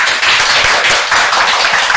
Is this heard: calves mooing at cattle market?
no